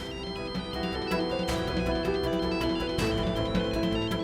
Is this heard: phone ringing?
yes